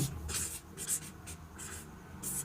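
Pen writing on paper during a Class 10 maths lesson, a steady run of soft scratchy strokes in quick bursts, close and fairly quiet, with no talk over it.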